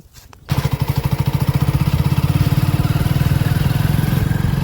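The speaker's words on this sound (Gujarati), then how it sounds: "બાઇક સ્ટાર્ટ કર્યો, આપણે બાઇક પર બેસી ગયા છીએ" A motorcycle engine catches after a brief start-up and settles into a loud, close, steady putter with a fast regular pulse, running alone without speech.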